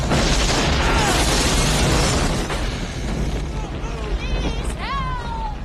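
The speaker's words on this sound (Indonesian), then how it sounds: "tiba-tiba saja terjadi sebuah ledakan" A loud blast-like roar dominates the opening seconds, then settles into a rumbling tail, with bright whistling or screeching tones appearing near the end.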